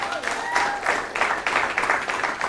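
An audience at a skincare sales training event in Cape Coral, Florida claps steadily in a brief burst of applause, with a few voices and cheers mixed in.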